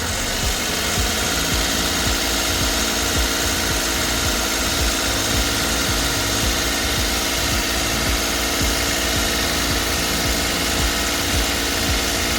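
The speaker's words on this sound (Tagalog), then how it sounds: "Maganda yung tunog ng makina niya" A Suzuki DA64W turbo wagon's engine runs steadily at 2000 RPM, a loud, continuous mechanical drone with a rhythmic pulsing underneath, close by and without talk.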